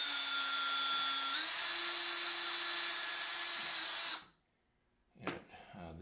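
Power drill boring holes in a rifle barrel, a loud whining buzz that steps up in pitch once and runs steadily for about four seconds, stops abruptly, then a short clatter follows.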